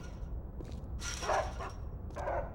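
A few short dog barks from caged dogs in the game Geist, two or three yaps spaced over a couple of seconds against a low hum.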